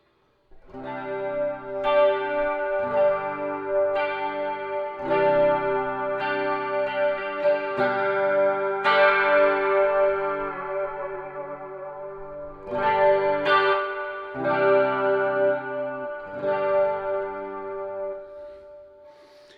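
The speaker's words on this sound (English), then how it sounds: "there you have sort of the basic tones of the Dimension C DC2W Wazacraft edition by Boss" Sustained electric guitar chords and picked notes shimmer with a wide chorus effect from a Boss Dimension C DC-2W pedal, played in steady phrases with brief pauses and no talking.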